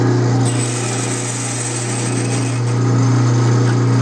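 A metal lathe forming a stainless steel bar for a conveyor roller runs with a steady high whine and a constant low drone, the tone shifting slightly as the cut progresses.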